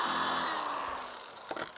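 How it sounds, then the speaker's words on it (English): A power drill pre-drills wood for the bottom of a stone crab trap: a whining motor that winds down over about a second, followed by a few faint knocks, heard close and with no talking. "We're gonna go ahead and pre-drill this thing, and this is gonna go right into the bottom of the trap."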